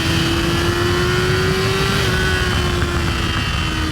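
Yamaha R6 600cc motorcycle engine singing at high revs, a loud sustained whine that rises slightly then eases, steady and close amid rushing wind.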